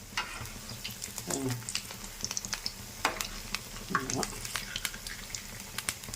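Wheat vadas frying in a pan of hot oil: a steady sizzle with crackles and bubbling, plus occasional stirring and spatula clinks close by.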